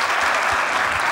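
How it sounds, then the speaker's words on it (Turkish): Studio audience applause on a Turkish TV talk show, a short dense burst of clapping filling the room at steady loudness, with no voices over it. "Alkışlar size."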